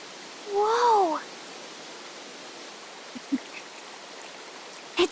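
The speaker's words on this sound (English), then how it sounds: "Running water nearby." Steady running water of a natural spring in the video game Metaphor: ReFantazio, a soft continuous stream-like rush under a brief voiced exclamation and a few faint taps.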